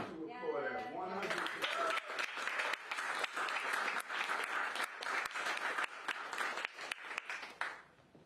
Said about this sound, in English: That's something to applaud at.